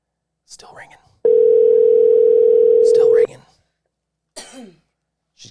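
An outgoing telephone call on a live radio show gives one long, steady ringback tone lasting about two seconds. Brief coughs and throat sounds come just before and after it.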